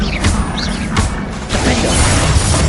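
The Confringo spell effect in Hogwarts Legacy crackles and bursts with several sharp impacts and mechanical clatter, loud and close, in rapid succession.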